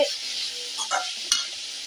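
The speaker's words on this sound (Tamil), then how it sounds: "அதை நல்லா கிண்டி விட்டுப்போம். பாருங்க, நல்லா எண்ணெயிலே வதங்குது." Cabbage frying in oil in a pan while being stirred, a continuous close sizzle with brief scraping and clinking of the spoon against the pan.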